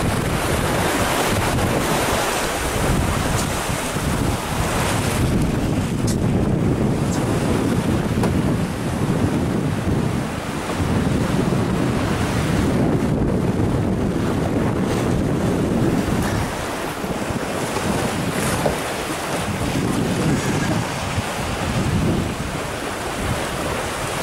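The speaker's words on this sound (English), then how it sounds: "Here we are, Southern Ocean." Waves and strong wind at sea on the Southern Ocean during a two-handed sailing race, a continuous loud roaring wash with gusty buffeting on the microphone and surging swells, no voices.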